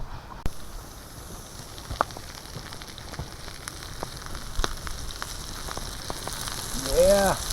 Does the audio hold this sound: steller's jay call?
no